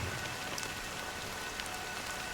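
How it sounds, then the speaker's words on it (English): Rain in the Honkai: Star Rail video game, a steady dense hiss of drops falling on surfaces, even and continuous throughout with no voices. "But it's still raining."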